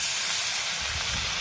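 Water poured into a pan of frying spices with raw mango gives a steady, close, hissing sizzle that holds without a break.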